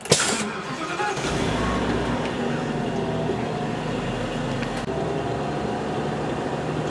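A school bus engine cranks briefly with a sharp onset, catches and settles into a steady, low diesel idle that runs to the end, with a faint click near the five-second mark.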